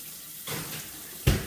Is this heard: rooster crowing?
no